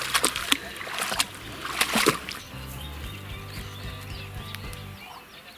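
A dog splashes into lake water beside a fishing camp, a few loud splashes and sloshes up close, followed by steady lapping water with a low motor-like hum and someone talking nearby.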